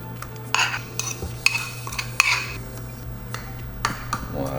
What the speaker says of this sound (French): On va bien mélanger le tout avec la fourchette.